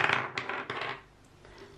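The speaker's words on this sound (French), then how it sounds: "On va donc venir lancer les dés et on va voir sur quelle case on va tomber." Dice rolled for a board game clatter in a quick burst of sharp clicks and knocks that bounce a few times, then settle and fade into quiet.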